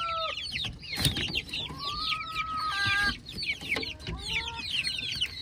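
Three-week-old chicks, nineteen in all, cheep and chirp steadily and close by in a group, with a few overlapping higher peeps.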